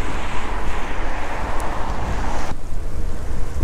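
Loud, constant cold wind at 6 degrees Celsius roaring and buffeting the microphone, a dense rushing noise with no pause throughout.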